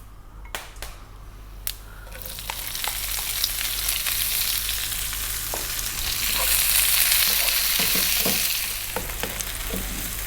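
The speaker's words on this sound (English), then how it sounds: "we're going to add the onion, and we're going to let that onion go for about 4 minutes" Chopped onion frying in hot oil for an Anglo-Indian railway mutton curry, a steady broad sizzle that swells and stays loud near the pan, with scattered stirring clicks and scrapes throughout.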